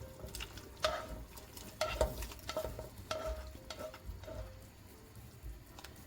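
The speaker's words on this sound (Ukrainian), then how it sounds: "Тепер ми кладемо сюди м'ясо з морквою" Pieces of meat and carrots drop into a pot of boiling water for soup with soft thuds and clinks against metal, followed by light stirring and a faint sizzle, close by.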